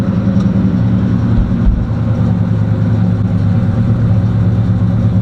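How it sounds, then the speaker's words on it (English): A Box Chevy engine idles steadily after a cold start, a loud, continuous low rumble with an even, throbbing pulse and no voices. "Let's try and see if we can get us a cold start."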